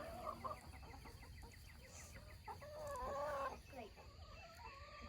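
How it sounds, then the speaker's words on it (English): Chickens and a rooster cluck and call close by in a syntropic garden planted with okra, sunflowers and bananas, a steady run of short, overlapping clucks over a low outdoor rumble, rising into a louder burst of calls midway. "The chicken's so close."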